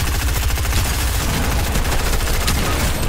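Rapid bursts of shotgun fire during a Fortnite battle royale match, dense and loud, shots overlapping into a continuous barrage with no pause for the full stretch.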